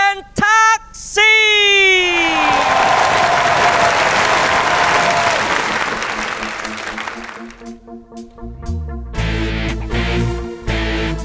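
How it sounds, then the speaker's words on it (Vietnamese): A television singing show's studio audience breaks into loud, sustained applause after the host's introduction, which fades out as the song's music starts. "hãy dành một tràng pháo tay"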